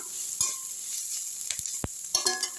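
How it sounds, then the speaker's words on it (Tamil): Onions and grated carrot sauté in a pan under a constant sizzle, punctuated by several sharp clacks of a spoon stirring against the pan. "அவ்வளோ வெங்காயம் வதங்கிடுச்சு"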